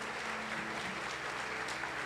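Church congregation applauding together during a worship service, a dense steady patter of clapping sustained at even loudness with no voices over it.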